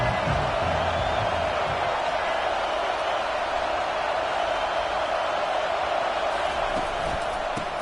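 A college football stadium crowd at Colorado versus Alabama roars in a dense, steady wash of cheering and noise that holds at full level throughout, distant and indistinct with no single voices standing out.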